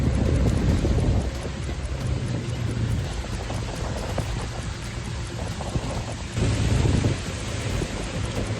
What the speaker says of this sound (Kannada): ಸಿಲಿಕಾನ್ ಸಿಟಿ ಬೆಂಗಳೂರಲ್ಲಿ ಮಳೆಯಾಗಿದೆ.